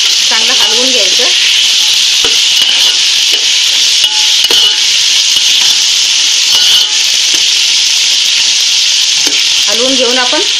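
Masala for chicken biryani, with coriander and red chilli powder, is stirred in a hot pan, a loud continuous sizzle with the steady scrape of a spoon running throughout and no voices.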